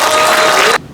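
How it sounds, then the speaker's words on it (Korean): An audience at a lecture hall event bursts into loud, dense applause and cheering to welcome a speaker, a thick wash of clapping that cuts off abruptly after under a second. "뜨거운 함성과 박수로"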